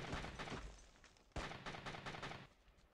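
Gunfire in the shooter Tom Clancy's Ghost Recon, a rapid string of sharp shots with a heavier blast midway, then more bursts in quick succession, loud and unaccompanied by talk.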